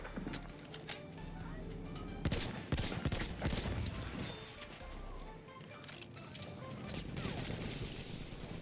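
Battlefield 1 machine gun fire crackles as dense, rapid bursts within a busy battle din of explosions and clatter, steady and moderately loud throughout.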